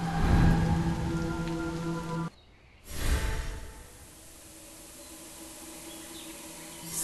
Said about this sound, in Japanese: ただの雨じゃない、これは透明で澄み切った雨。 風神の雨だ。